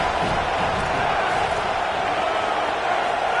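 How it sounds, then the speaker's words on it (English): A home crowd roars at a football game in a college football video game, a loud, dense and unbroken wall of noise with a commentator's voice faintly mixed in. "Now this home crowd making life difficult."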